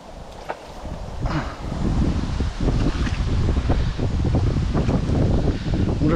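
Gusty wind buffets the microphone at a fishery lake, a low rumbling roar that builds and stays strong throughout, with faint rustling underneath and no talk.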